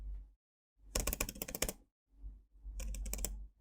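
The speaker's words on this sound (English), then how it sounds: "And I keep pressing spacebar" A Mac keyboard's spacebar is tapped over and over in two quick bursts of clicky keystrokes with a short gap between them, heard close and alone without any voices.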